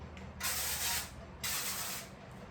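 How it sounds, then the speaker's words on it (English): Olive oil cooking spray hisses into baking pans in two close, steady bursts of about a second each, with quiet room sound between them. "I'm also going to take a spray olive oil and spray the bottom of these pans"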